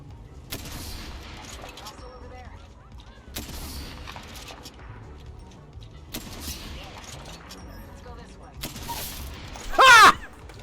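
Gunfire in the video game Warzone, with sniper-style shots from a Sentinel rifle: a few loud sharp cracks spread through the clip over busy game sound and chatter, with a final burst near the end.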